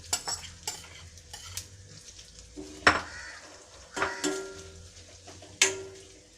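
Bitter gourd fries in a pan for pickle, a soft sizzle beneath repeated close scraping and clinking of a spoon stirring against the pan, with several sharper knocks.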